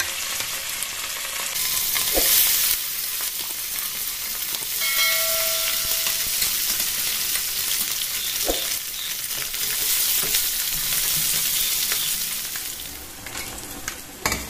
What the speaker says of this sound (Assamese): তেল গৰম হৈছে এতিয়া ইয়াত মই এপিচ মাছ দি লম